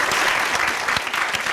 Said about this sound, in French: Merci d'applaudir pour Pasteur Mika.